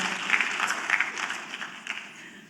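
Audience applause in a church-style gathering, moderate clapping that swells briefly then thins out, heard at a middling distance and fairly soft.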